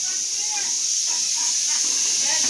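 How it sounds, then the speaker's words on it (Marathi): Puris frying in ghee on a low gas flame, a steady, even hiss and sizzle throughout with no talk. "हे बघा बारीक गॅस करून पुऱ्या लावते."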